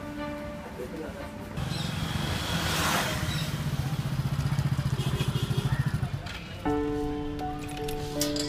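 A motorbike or similar road vehicle idles, its engine throbbing steadily before dropping away as it pulls to a halt, with a person speaking over it.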